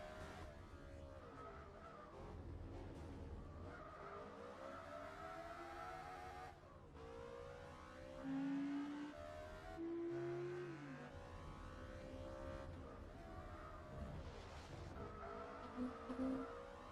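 Honda NSX race car engine in Gran Turismo 4, a loud continuous game engine roar with rising and falling revs, gear shifts and tire squeals, an approaching car blended into the player's own engine noise.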